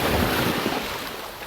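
Ocean waves surge and splash against a sea wall near Port Ferdinand and Six Mens Bay, a loud, continuous roaring wash close by with heavy wind buffeting the microphone.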